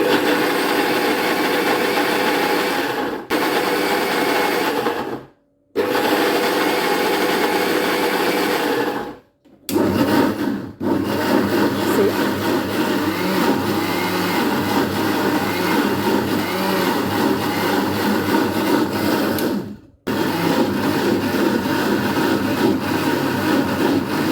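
A kitchen blender whirs loudly while blending tomatoes, ginger and garlic with a little water, running in several continuous bursts separated by brief stops, close by and with no talking.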